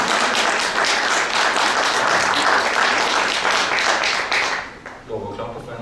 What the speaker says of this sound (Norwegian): Lov å klappe for NRK.